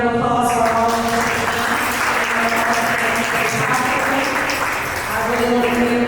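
An audience at a West Louisville economic mobility summit claps, a steady, loud wash of applause lasting the whole stretch, with voices audible underneath.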